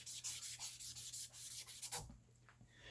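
Sandpaper rubs back and forth along the barrel of a Taurus G3 pistol, about a dozen quick, even rasping strokes close up, then stopping, with no talking.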